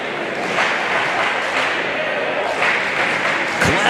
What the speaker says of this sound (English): Clap along at home for your Little Elm Lobos.